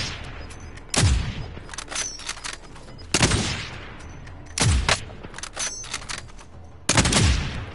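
Call of Duty Warzone gunfire on PS4: four loud, sharp bursts of shots spaced a couple of seconds apart, with quieter game noise and faint distant pops in between.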